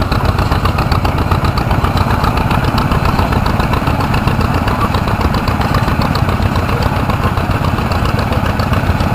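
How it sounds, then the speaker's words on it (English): A 1945 John Deere crawler's engine runs at an outdoor hometown show, a loud, steady, chugging mechanical rumble with a rapid regular beat that stays constant and close throughout. "Next up, we have a 1945 John Deere Crawler, owned by Michael Davis."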